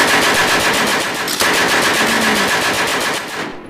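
Rapid cartoon machine-gun fire from a Javanese-dubbed SpongeBob cartoon, a loud, dense rattle of shots running continuously for several seconds before cutting off.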